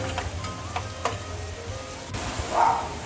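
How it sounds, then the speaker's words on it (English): Garlic and onions frying in melted butter in a pan, a soft steady sizzle with a few light ticks and stirring clinks, swelling slightly near the end. "Now once the butter has started melting, I am going to put my garlic and then my onions."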